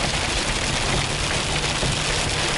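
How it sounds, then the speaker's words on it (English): Heavy rain pours steadily in West Virginia, a dense, loud hiss of drops drumming on a surface with no pauses. "Really raining, oh my god."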